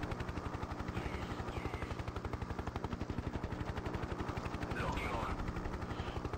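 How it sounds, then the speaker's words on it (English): Rapid, steady bursts of 23mm dual cannon fire from an Mi-24 Hind helicopter in the video game Hind (1996) pound continuously over a thrumming rotor drone, loud and close throughout. "Gonna use this 30mm cannon pods."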